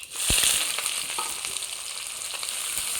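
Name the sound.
onion frying in hot oil with nigella seeds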